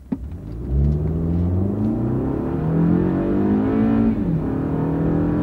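A Toyota Camry with a multi-speed automatic transmission accelerates hard from a stop with traction control off, engine rising steadily in pitch, easing back at a quiet gearshift, then climbing again, loud and close from inside the cabin.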